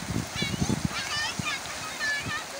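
Clear river water splashes and sloshes close by at a family outing on the Siran River, mixed with steady stream flow while children's voices chatter over it.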